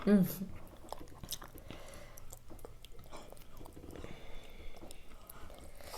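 Someone chewing Thai papaya salad with crab and pork cracklings, with soft, moist bites and faint crunches close to the mic while people talk nearby.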